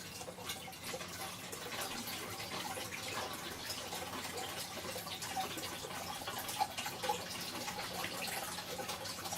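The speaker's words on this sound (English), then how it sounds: "Same thing, let that drain out." Vinegar water drains steadily from a Rinnai R53i tankless water heater being flushed, a soft continuous trickling and splashing, fairly faint, with no one speaking.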